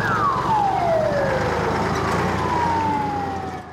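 A fire engine's siren wails loudly in long downward sweeps as the truck heads out to a fire in Tyumen, with a second siren tone sliding beneath it.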